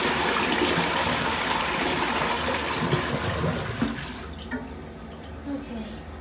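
Water flushing dye out of a Cadet PRO triangle tank toilet, a loud rushing gush that gradually tapers off into gurgles and trickles as the tank refills.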